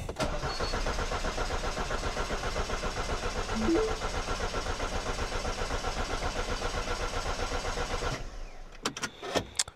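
The starter of a faulty Mini car cranks the engine in a fast, steady rhythmic chug for about eight seconds without the engine catching, then cuts off, leaving a few clicks and knocks.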